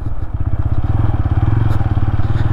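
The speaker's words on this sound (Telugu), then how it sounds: "నాకు ఎందుకో ఇది ఇక్కడ ఆఫ్ రోడ్లో రైడ్ చేయాలనిపించింది. సో ఇక్కడ రైడ్ చేస్తూ ఉన్నా." A 2025 TVS Apache RTR 160 4V motorcycle is ridden off-road, its single-cylinder engine thumping in a steady, rapid pulse close to the microphone, loud and continuous.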